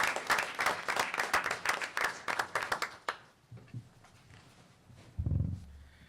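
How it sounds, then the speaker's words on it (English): A school board meeting audience claps for two nervous student presenters, a lively burst of many hands that stops abruptly, followed by quiet room murmur and a brief low thump. "Give them a round of applause"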